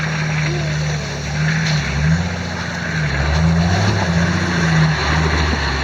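An old 4WD crawls along a rough bush track, its low engine drone rising and falling steadily beneath a constant rattling and grinding of the body and running gear, close and fairly loud throughout.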